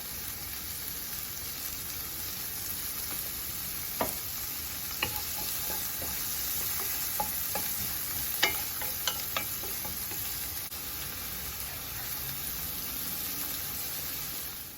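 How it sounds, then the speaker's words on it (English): Onions and celery, seasoned with salt and pepper, sizzle steadily in a pan, a continuous close frying hiss broken by occasional sharp clicks and scrapes of stirring, with no one talking. "our onions and our celery have been cooking for a while"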